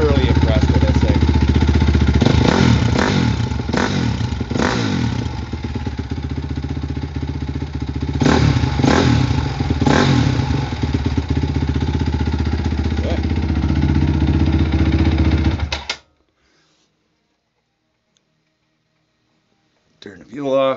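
A 2006 Honda CRF250X dirt bike runs after a cold start, its single-cylinder engine idling steadily with a few blips of throttle before it cuts off abruptly to silence.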